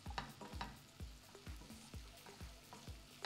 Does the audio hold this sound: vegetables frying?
yes